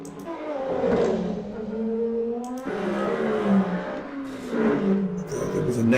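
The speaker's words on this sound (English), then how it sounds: "There goes the hypercar." A Le Mans hypercar in the racing game roars past with a rising then falling engine note, sweeping by twice over a steady buzzing drone, fairly loud and with no talking.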